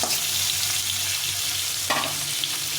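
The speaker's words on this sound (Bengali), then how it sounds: "একদম কম তেলে মাছটাকে ভেজে নিয়ে রান্না করব" Close, constant sizzling of singi fish in a little hot mustard oil, an even crackling hiss with a brief louder spit partway through, no one speaking.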